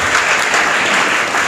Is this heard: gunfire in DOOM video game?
no